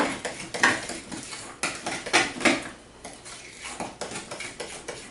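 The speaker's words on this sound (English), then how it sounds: "you beat this until it's all nice and smooth and creamy" Egg yolks beaten in a bowl for gluten-free lemon cookie dough, a close run of quick rhythmic clinks and taps of utensil against the bowl, roughly a dozen strokes with brief pauses between bursts.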